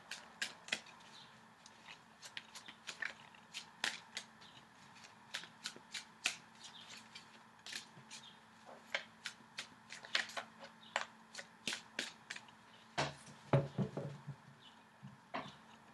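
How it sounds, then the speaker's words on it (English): Tarot cards are riffled and shuffled repeatedly, with crisp snapping bursts in an uneven rhythm, close and fairly quiet. "Shuffling the cards."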